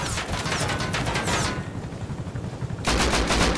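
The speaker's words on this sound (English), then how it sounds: "Why is he shooting me?" Rapid bursts of automatic gunfire in a multiplayer shooter video game, loud crackling volleys that pause for about a second before another dense burst, with no talk over it.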